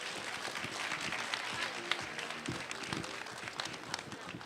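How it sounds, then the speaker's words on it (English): An audience at a business expo opening ceremony applauds, with a steady patter of clapping at moderate distance that keeps going throughout. "Let's give her another big round of applause."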